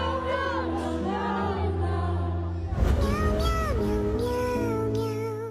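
A cat meows in a drawn-out, song-like series of calls, wavering and expressive, heard over a busy background of music and crowd sound.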